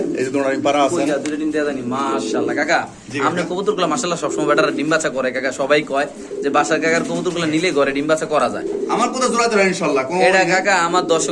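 Racing pigeons at a pigeon farm coo continuously, a dense, close chorus of soft warbling calls running under loud conversation between people.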